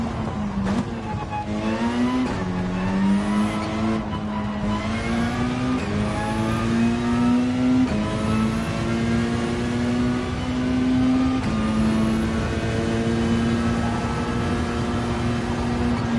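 A race car engine roars in Gran Turismo 7 during a hot lap, holding a loud continuous tone that climbs in pitch, drops at each gear shift and climbs again.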